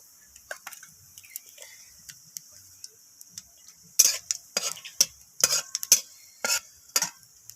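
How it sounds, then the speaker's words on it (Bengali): Dried chili and five-spice tempering stirred in hot oil produce sparse soft ticks, then a burst of louder metallic scrapes and crackling sizzle in the second half, with brief talk. "তো ফোড়নটাকে একটু নাড়াচাড়া করে নেব।"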